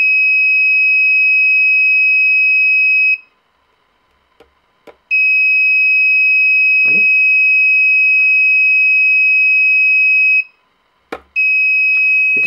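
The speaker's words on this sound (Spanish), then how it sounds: "que funcione y dispare la alarma." A homemade radio-controlled alarm with a 500-metre range blares a loud, steady electronic tone in long bursts. Brief pauses between them carry a few faint knocks and taps.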